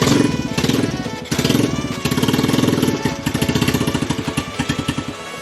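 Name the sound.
motorcycle engine running after PZ26 carburettor rebuild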